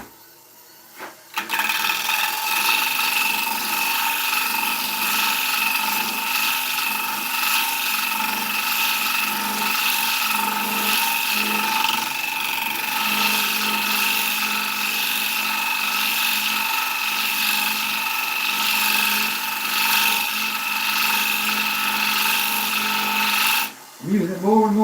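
Skew chisel cutting an ash wood bowl spinning on a lathe, giving a continuous loud whirring hum with steady tonal overtones, running nearly nonstop and cutting off abruptly near the end.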